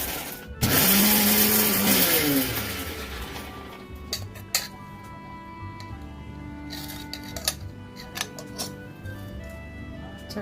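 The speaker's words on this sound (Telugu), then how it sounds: "దీనిలో కొద్దిగా వెల్లుల్లి రెబ్బలు వేసుకొని గ్రైండ్ చేసి పెట్టేసుకోవాలి." Mixer grinder blitzing masala with garlic cloves in a jar: a loud, steady whirring motor burst lasting a couple of seconds, followed by lighter clinks and handling noises of the jar and utensils.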